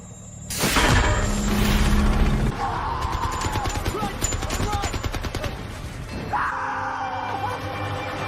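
Dense gunfire and bursts of automatic fire erupt in a war-film ambush by Nazi soldiers, with loud crashing impacts and screams under the battle din, the firing rapid and sustained throughout.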